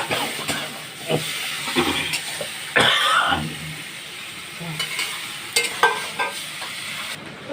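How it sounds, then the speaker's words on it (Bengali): Spices and ginger paste sauté in a pan with a little water, giving a soft hissing sizzle punctuated by scraping stirs and occasional bursts of steam, close and moderately loud. "একটু জল দিয়ে কষবো"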